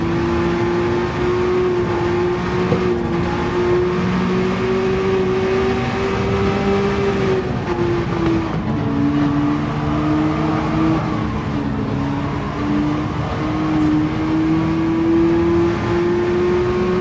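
Race car engine in Gran Turismo 7, droning loud and steady with pitch rising and dipping through shifts as it is revved hard under turbo lag, heard from onboard.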